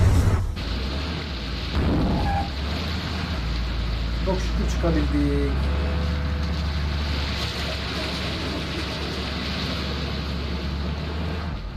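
A boat cruising across water in Bus Simulator Indonesia, a steady engine drone with washing water noise throughout, while someone speaks over it.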